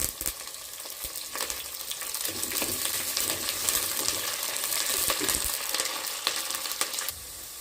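Curry leaves frying in oil with garlic, ginger and onion for a sardine curry, giving a steady close sizzle with occasional crackles and stirring scrapes running throughout, with no voices.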